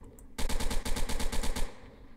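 Assault rifle firing in the video game Veil of Fire, a rapid burst of about a dozen evenly spaced automatic shots lasting just over a second, loud and alone, then cutting off.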